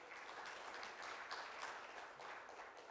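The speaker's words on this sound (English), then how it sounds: "Give a big round of applause to him." Audience applause at a business breakfast meeting, a dense and steady clapping that fills the space evenly throughout and stays at a moderate level.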